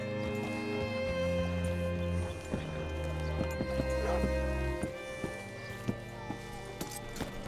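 Horse hooves clip-clop at a slow walk in Red Dead Redemption 2, a series of sharp knocks over low droning music, with a brief vocal sound near the start.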